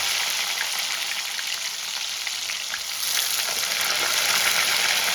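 Tomatoes dropped into spices frying in hot oil give a loud, steady sizzle that swells louder toward the end, with no voices.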